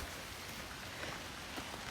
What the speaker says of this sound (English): Let there be rain.